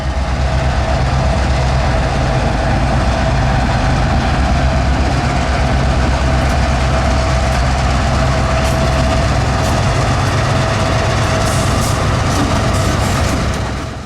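Florida East Coast Railway EMD diesel locomotives, GP-type Jeeps, move a train in a loud, continuous low engine rumble and idle drone, close by and steady for the whole stretch with no talk.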